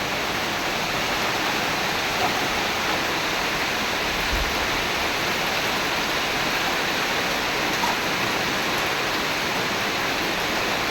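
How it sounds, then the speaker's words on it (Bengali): Heavy morning rain pours down in a dense, steady hiss that stays even and loud for the whole stretch, with no voices. "সকাল সকাল দেখেন কি পরিমাণে বৃষ্টি নামলো"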